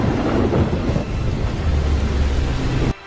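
A thunderstorm in a film scene: rolling low thunder rumbles over a steady hiss of heavy rain, loud and continuous, then cuts off abruptly near the end.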